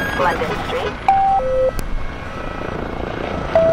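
A police helicopter in Grand Theft Auto V drones steadily in the background while voices talk over it, with a few electronic beeps.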